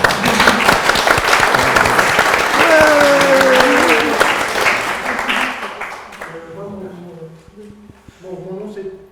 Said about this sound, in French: on n'a pas trouvé l'occasion encore d'applaudir Suzanne